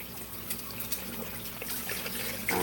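Boiled eggs are rinsed under a running kitchen tap, a steady close splash and trickle of water into the sink with small clicks of handling and no talking.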